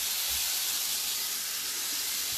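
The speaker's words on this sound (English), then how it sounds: "Let y'all see it frying here." Country fried steak sizzles in a hot pan, a steady bright hiss of frying oil close to the microphone, continuous and even throughout.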